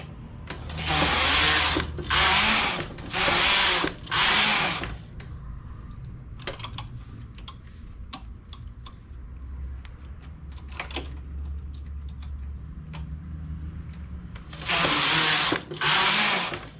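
A domestic knitting machine's carriage is pushed across a row in several quick rattling, clattering bursts at start and end, with quieter mechanical clicks between, close by.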